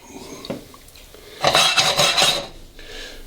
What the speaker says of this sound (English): crack those coriander seeds and you want to throw them into a dry pan like this